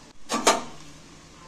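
A lid goes onto a cooking pan with two quick metallic clinks close by, followed by a faint hum of the kitchen.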